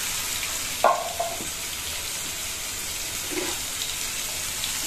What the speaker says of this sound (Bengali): একটু ভালো মতন ভেজে নিচ্ছি নুন আর হলুদ দিয়ে